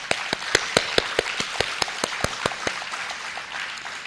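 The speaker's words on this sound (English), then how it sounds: "Please let's join me in giving the Office of the Ombudsman a big round of applause." Audience applause at a public governance forum: scattered individual claps ring out sharply over a steadier wash of clapping, then the claps thin and soften toward the end.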